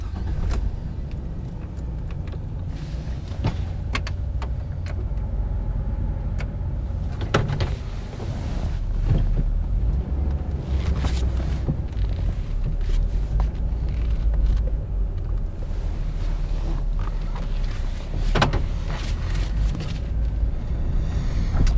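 A car driving through Trinidad, a steady low engine and road rumble holding at a fairly loud level throughout, with a few brief rattles and knocks over the drone and no talking.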